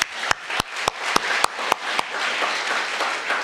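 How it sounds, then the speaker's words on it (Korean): A church congregation applauding during Sunday worship: loud, evenly spaced claps in unison at first, then dissolving into a looser, continuous wash of clapping. "우리 하나님께 영광의 박수 올리겠습니다"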